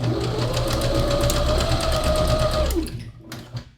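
Sewing machine stitching a round neckline on stretch fabric, a loud continuous whirring run of rapid needle strokes that slows and stops near the end, followed by a couple of soft handling clicks.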